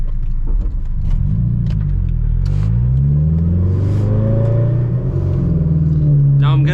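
A Honda S2000 AP2 fitted with a Tomei exhaust pulls hard with the windows closed, its engine note climbing steadily in pitch as the revs build, loud and close from inside the cabin.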